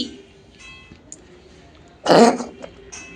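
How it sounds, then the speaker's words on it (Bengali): One sharp, harsh cough bursts out close by, loud against an otherwise quiet background with faint scattered noises. "এত কাশি হচ্ছে কেন"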